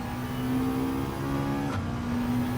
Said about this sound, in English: Powering out of the corner.